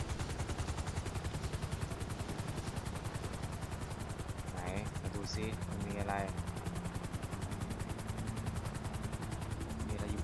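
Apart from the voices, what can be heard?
helicopter flying in video game GTA V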